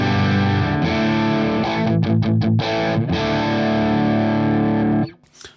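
An electric guitar runs through a Two Notes Torpedo with a simulated SM57 microphone, giving distorted chords that ring out loud and sustained, broken by a few quick choppy stabs, then cut off near the end.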